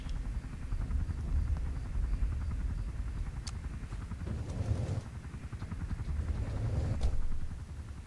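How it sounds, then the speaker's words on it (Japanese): A helicopter in the mobile game Life After drones with a steady low rotor thrum, continuous and moderately close, with light game sounds on top. "ひとまずねヘリに乗ります。"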